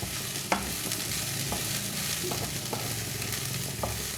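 Beans stirred in a pan over low heat with no water added: a soft, steady sizzle broken by several sharp, irregular clicks and scrapes of the utensil against the pan.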